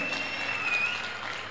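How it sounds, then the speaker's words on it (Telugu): Crowd applause at a political rally in Nellore, a dense, steady wash of clapping from many hands that holds at an even level throughout. "చప్పట్లు కొట్టాలి దీనికే"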